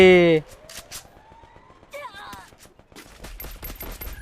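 Video game gunfire cracks in sharp, separate shots, some in quick bursts, mixed with electronic game tones and sweeping effects.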